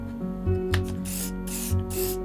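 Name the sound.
spraying around edges of glued veneer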